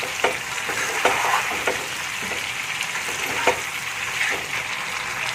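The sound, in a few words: frying and stirring potatoes in oil for chicken curry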